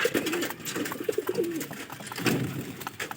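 Pigeons coo near their coop at midday feeding time, several low throaty rolling calls repeating close by over faint background bustle.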